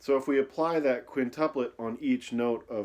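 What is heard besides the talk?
No distinct noise like a dog, phone or traffic.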